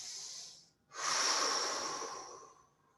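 A long, breathy exhale flows out steadily for about two seconds during a yoga twist, coming right after a brief earlier breath and a short pause, close and clear with no talking.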